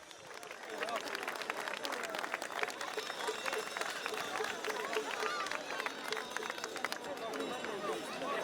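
Audience applause and cheering at an outdoor carnival parade in Neoneli, Sardinia, greeting masked groups from Bosa; dense sustained clapping from a crowd with background hubbub and some voices, steady throughout.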